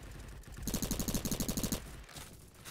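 Hip-fire from a gun in a shooter video game: one quick automatic burst of about a dozen evenly spaced, punchy shots, clear and close over quieter game ambience, with no talking.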